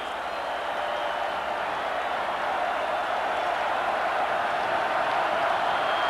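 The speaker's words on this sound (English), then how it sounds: "And the crowd cheers Tennessee's 24-21 advantage." A football stadium crowd at a 1982 Tennessee versus Alabama college game roars in a dense, sustained cheer, loud and unbroken throughout with no clear individual voices.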